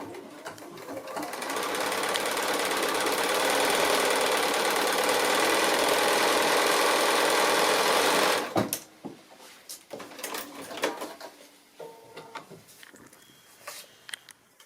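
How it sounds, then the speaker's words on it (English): A sewing machine stitches a foundation-pieced quilt block along the marked line out to the seam allowance edge, running steadily and close for about seven seconds before stopping, followed by soft handling and fabric noises. "I can go ahead now and stitch along that line, going right out to the seam allowance edge."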